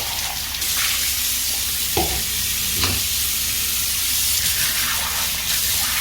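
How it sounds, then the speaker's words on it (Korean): Something is rinsed under a running tap during a weekly aquarium water change: a steady, close rush of flowing water with a splashy surge around the middle and no talking. "흐르는 물에 그냥 헹궈주면 됩니다"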